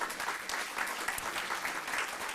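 Continuous applause from a conference audience at an open source event's opening plenary, steady and dense clapping heard from a moderate distance, with no talk over it.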